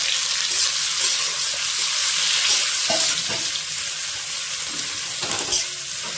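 Chopped raw onion hitting hot white oil in a pan for egg fried rice, a bright, even sizzle with a few soft stirring knocks, close and steady with no voices.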